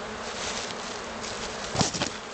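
Steady droning buzz of many black honeybees around a hive during a spring colony inspection, continuous and close, with a brief louder swell near the end.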